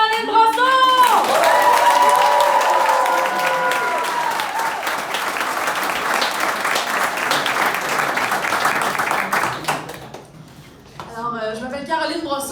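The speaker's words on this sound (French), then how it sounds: "Fait commencer à applaudir pour Caroline Brosseau!" An audience applauds and cheers loudly as a comedian is introduced and comes on stage for a stand-up homage to Paul Piché, a dense, steady ovation under an announcer's voice at first, fading out before she begins speaking.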